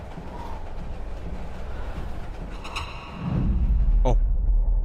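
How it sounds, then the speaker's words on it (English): A train rolls past in the horror game Layers of Fear, a sudden heavy low rumble swelling in and holding loud after a faint metallic rattle and a brief rising screech, with a voice speaking beforehand. "That just got crushed by the train."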